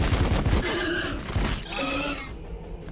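Sci-fi gunfire from units in a turn-based Warhammer 40,000: Battlesector battle, a couple of sharp crackling volleys with rattling impacts and debris, loud and close, no talking.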